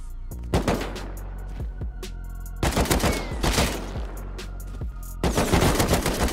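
Rapid bursts of AK rifle gunfire in the Rust survival video game, loud and close, firing in three sustained volleys separated by brief gaps, with dense overlapping shots and no talking.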